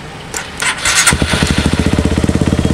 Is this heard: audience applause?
no